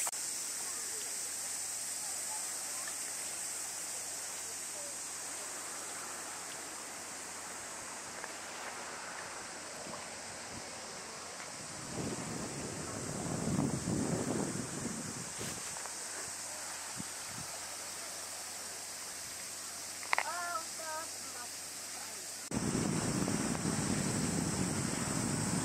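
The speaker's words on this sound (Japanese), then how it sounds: "海岸です" Sea waves wash against the coast beside a seawall in Okayama, a steady soft hiss broken by louder surging bursts partway through and again near the end, with a brief chirp over the top.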